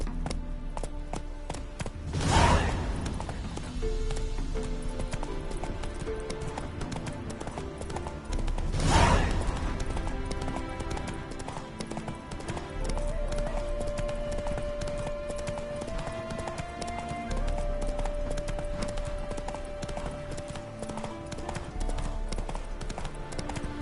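The horse Roach gallops in The Witcher 3 video game, with a steady, rapid clip-clop of hooves throughout over a musical score, and two louder bursts early on.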